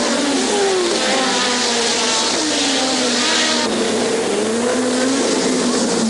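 Formula 1 race cars in a 1986 Grand Prix, Piquet overtaking Berger, high-pitched engines screaming and shifting pitch as cars pass close and loud, continuous throughout.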